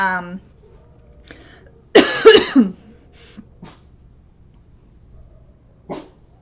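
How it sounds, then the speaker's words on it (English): A brief voice, then a cluster of loud, close coughs in a rapid burst, followed by quiet with a low hum and one more short cough. "I'm sorry for the coughing."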